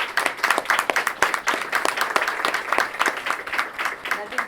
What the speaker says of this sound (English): I want to give all of us a round of applause of our people from Connecticut